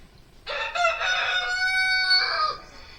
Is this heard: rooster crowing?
yes